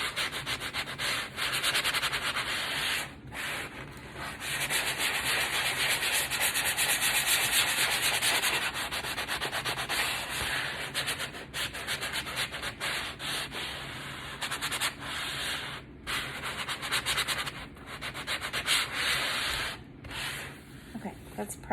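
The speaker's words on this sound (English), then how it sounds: "I always run a sanding block over it one more time" A sanding block rubs steadily back and forth over a laser-cut wood board, a continuous close, loud scratchy hiss broken by a few brief pauses, with no speech.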